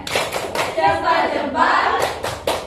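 A classroom of students claps out the rhythmic "tepuk salut" routine, a few sharp patterned claps mixed with chanted voices, close and lively.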